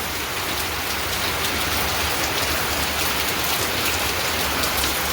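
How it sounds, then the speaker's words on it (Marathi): Steady heavy rain pours down without a break, a dense hiss of drops drumming on surfaces close by, with no voices. "जोरदार पाऊस चालू आहे बाबा"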